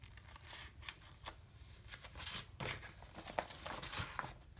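Scissors snipping and crunching through paper while making journal pockets, a steady run of close, crisp cuts with light paper rustle between them.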